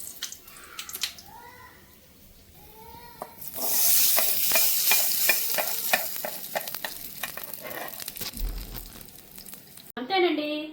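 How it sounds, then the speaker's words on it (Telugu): A hot tempering with urad dal is poured into bottle gourd chutney and erupts into a loud, hissing sizzle. Scraping stirs follow while the frying crackle slowly settles, with brief quiet handling sounds before and after. "ఇప్పుడు మనం పోపు అందులో వేసేసుకుందాం"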